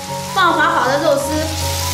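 Slippery-coated shredded pork hitting hot oil in a wok with chili bean paste, garlic, ginger and scallion, a sudden loud sizzle with clattering stir that carries on briefly.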